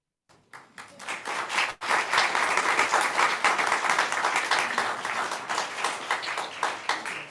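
Applause from an audience at an indoor gathering, starting with a few claps and quickly swelling into steady, dense clapping that holds for several seconds before thinning slightly.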